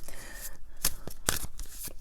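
A deck of tarot cards being shuffled by hand, soft papery riffles with a couple of sharp snapping flicks, close and fairly quiet.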